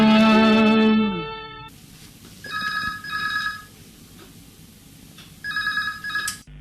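A telephone rings on a radio phone-in music request show, with loud bursts of ringing repeating at intervals and a musical tone fading out at the start, with no voices.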